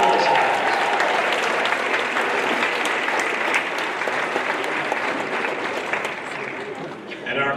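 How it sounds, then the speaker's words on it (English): An audience at a high school scholarship awards ceremony breaks into a big round of applause, dense loud clapping that tapers slightly toward the end. "Let's give them a giant round of applause."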